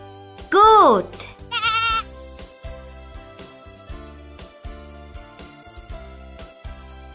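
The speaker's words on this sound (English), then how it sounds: "Goat." A goat bleats once, loud and wavering, then gives a shorter second bleat, both over a light musical backing track.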